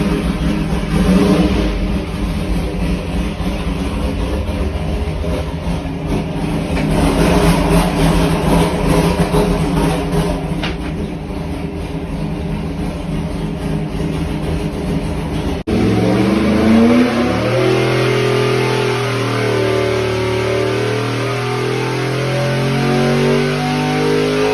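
A 700+ horsepower Mopar street truck engine revs hard and steadily under load on a dyno, droning loud and close, then drops in pitch and settles into a lower, rougher rumble.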